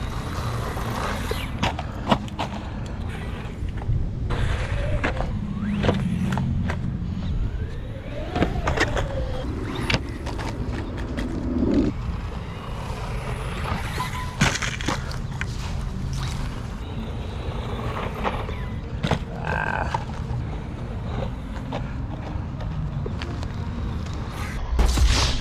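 A budget RC car being crashed again and again in a durability test, giving sharp thuds and clatters over a rough, buzzing motor whine that runs throughout.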